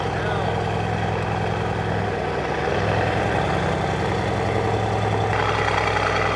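A loud straight-piped Mercedes C63 S engine idles without catalytic converters, a deep, rough rumble and steady throb persisting throughout; voices talk faintly over it.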